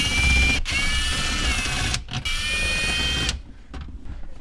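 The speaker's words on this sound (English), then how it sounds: "10mm socket, go ahead and remove the 4 screws, the 4 bolts that are holding in the radio." Socket ratchet with a 10mm socket backing out the bolts that hold the factory JBL radio in a Toyota 4Runner dash. A steady, close mechanical whirring runs in long bursts with brief pauses and ends early, leaving quiet.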